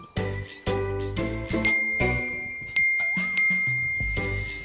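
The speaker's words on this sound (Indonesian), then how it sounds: "itu notif udah kayak pasar malam" A rapid flood of phone notification chimes, one bright ding and jingle after another stacking up in close succession, loud and near, with no voices.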